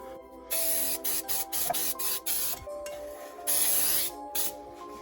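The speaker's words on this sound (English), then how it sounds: "I'm going to spray with pan baking spray." Baking spray hissing out of an aerosol can into two 8-inch cake pans, a series of short loud bursts followed by a longer spray, close up with background music and no talk.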